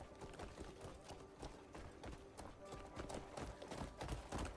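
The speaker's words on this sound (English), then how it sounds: "I've never actually seen the horse summoned before" Hooves of a summoned horse in Crimson Desert clop along in a quick, uneven rhythm of faint thuds, running steadily with a soft game backdrop and no speech.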